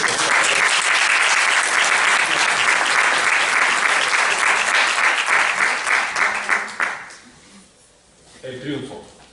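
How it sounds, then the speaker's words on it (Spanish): Loud, dense applause from an audience at a talk on resilience and hope, steady for several seconds, then tapering off into near silence before a voice speaks briefly at the close. "Un aplauso"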